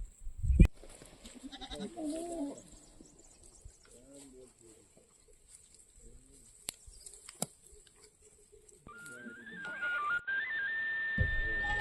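Goats and sheep of mountain shepherds bleating intermittently nearby in an open morning setting, mixed with quiet talk, scattered knocks and a thin whistling tone toward the end.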